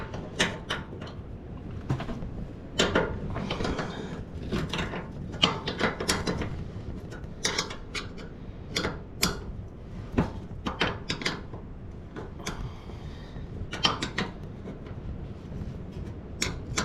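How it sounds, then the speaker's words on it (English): Two hand wrenches turning bolts on a wheelbarrow wheel, with no power tools or ratchet, give repeated metallic clicks and scraping clanks in irregular bursts, close and fairly loud. "Not even a ratchet, just old style 2 wrenches."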